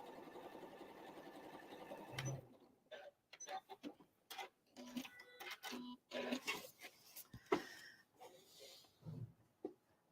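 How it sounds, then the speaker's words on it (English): A domestic sewing machine straight-line quilting a fabric place mat backed with foam stabilizer runs in short, quiet stitching bursts separated by pauses, with a little handling noise between runs. "so I'm just straight line quilting."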